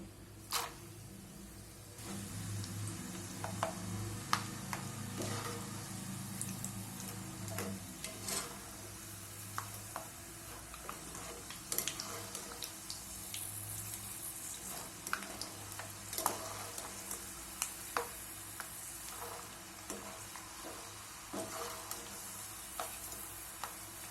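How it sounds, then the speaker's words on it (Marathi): Peanuts fry in hot oil for chivda, a quiet continuous sizzle dotted with frequent small ticking pops and occasional stirring clicks, heard alone without talk. "आता शेंगदाणे तळून घेणार आहे."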